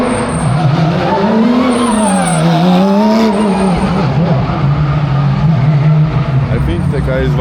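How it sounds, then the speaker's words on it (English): On a pit lane, a race car warming up its brakes drones loudly nearby, its engine pitch rising and falling in waves, with voices in the background. "I think the guy is warming up the brakes."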